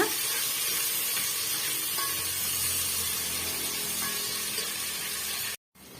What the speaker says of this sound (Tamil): ஓரளவுக்கு வெங்காயம் பச்சை மிளகாய் நல்லா வதங்கி வந்துடுச்சு